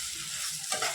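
Chili powder and ginger-garlic paste stirred into frying onions with a splash of water: a soft, steady sizzle with a brief scraping swell of stirring near the end, no voices.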